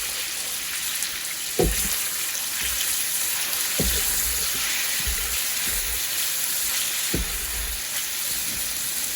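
Meat frying in a pan for a Guyanese-style soup gives a continuous bright sizzle and hiss, broken by a few low clunks of the pan or utensil, with no talking.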